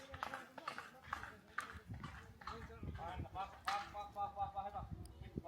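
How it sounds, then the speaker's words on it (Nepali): A horse climbs an uphill trail on a trip to Chandragiri, its hooves clip-clopping in an uneven walking rhythm close by while people talk over it. "अनि यो घोडा चाहिँ माथि चढ्दा फेरि चाहिँ एकदम कुद्दो रहेछ"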